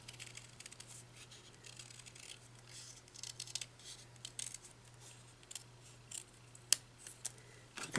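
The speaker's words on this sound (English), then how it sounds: "So we're going to actually cut a heart" Scissors cutting a freehand heart shape out of designer series paper, with quiet repeated snips and soft paper rustles close by over a low steady hum, a sharp click near the end.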